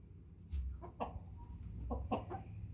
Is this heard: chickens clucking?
yes